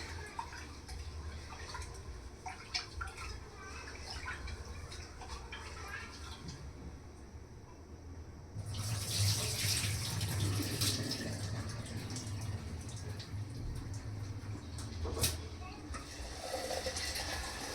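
Tap water runs steadily into a sink while rice is being washed, getting louder and splashier partway through, with a steady background hum.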